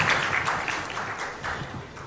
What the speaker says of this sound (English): A round of applause for ma'am,